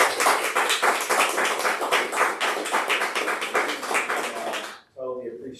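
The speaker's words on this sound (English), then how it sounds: "just give a round of applause for Chris and everything." An audience at an advertising agency night-school livestream applauds the presenter with steady, loud clapping for several seconds, then it cuts off abruptly and a voice begins speaking.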